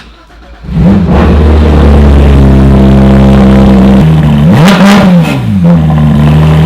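A lizard green inline six-cylinder sports car with PDK and an aftermarket exhaust cranks and fires up loudly, then holds a rumbling idle with a couple of sharp revs near the end, close and alone.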